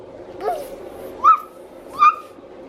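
A young child imitates a dog barking with two short, high yipping woof sounds, preceded by a brief softer vocal sound, in a quiet room.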